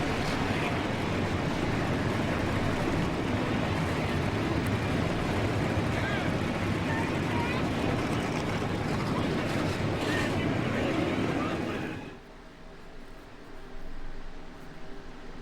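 Race car engines roar continuously at the start of an iRacing video game race at North Wilkesboro, a loud dense drone that holds steady for about twelve seconds before dropping sharply to a quieter hum.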